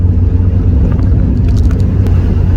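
A Mazda MX5 drives flat out on a military road on the Isle of Wight, its engine a loud, steady low drone with wind noise rushing over it throughout.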